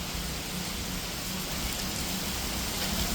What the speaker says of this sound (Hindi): दिखा रहे हैं ये बारिश तकड़ी हो रही है भाई